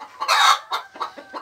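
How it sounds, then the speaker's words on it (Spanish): Laying hens on a poultry farm cluck in a close, loud burst followed by several shorter clucks in an uneven rhythm, with no talking. "a nuestras gallinas ponedoras."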